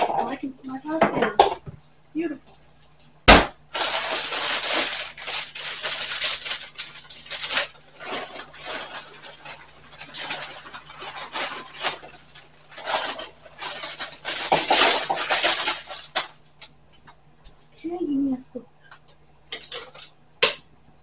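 Bowls clatter and clink in a home kitchen while tuna casserole is prepared, with repeated close knocks of dishes and utensils and a sharp bang near the start, under intermittent talk.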